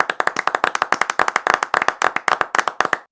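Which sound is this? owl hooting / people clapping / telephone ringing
people clapping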